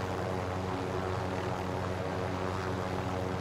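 A helicopter in a video game flies with a steady, loud engine and rotor drone that stays even throughout, with no talking.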